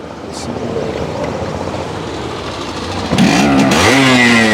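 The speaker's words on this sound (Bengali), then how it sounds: "আচ্ছা ইঞ্জিনের সাউন্ডটা শোনান ভাই" A Yamaha RX115 motorcycle engine runs close by at a steady, loud idle, then revs up sharply for the final second and a half.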